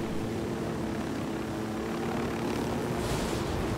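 A propeller airplane's engine drones steadily and loudly throughout in Ghost Recon Wildlands, a continuous near hum with a slight swell toward the end.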